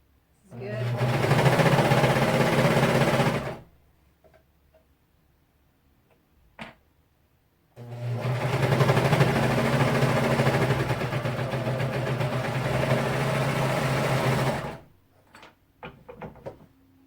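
A serger sewing machine stitches fabric on a 1980s McCall's 8521 pattern in two sustained bursts of dense mechanical whirring, about three and seven seconds long, separated by a pause with small clicks and handling noises.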